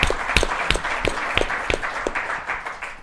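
A few people clap in scattered, uneven bursts at a civil rights talk, with the claps sounding fairly close over a steady background of crowd noise.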